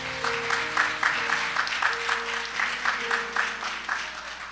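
A Baptist church congregation claps in praise during a Sunday service, with a brisk, even rhythm of hand claps over a sustained organ-like tone.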